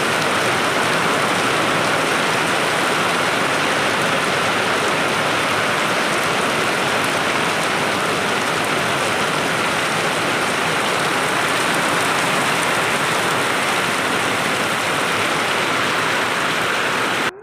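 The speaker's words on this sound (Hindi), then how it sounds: "बारिश देखो कितनी तेज़ से और शुरू हो गई।" Heavy rain falling hard and steadily, a dense continuous hiss and patter on surfaces, close and loud with no voices.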